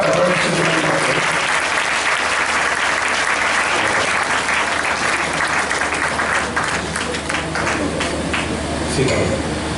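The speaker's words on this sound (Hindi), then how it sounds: "ताली बजाइए, ताली बजा।" A church congregation at a wedding ceremony claps in a loud, dense wash of applause that runs steadily throughout, with a voice briefly heard near the start.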